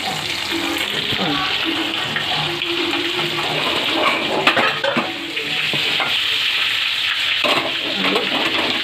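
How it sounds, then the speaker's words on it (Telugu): Fish deep-fry in hot oil with a loud, steady bubbling hiss that runs the whole time, and a voice murmurs faintly beneath it. "చేపలు బాగా డీప్ ఫ్రైలో వేగాయి"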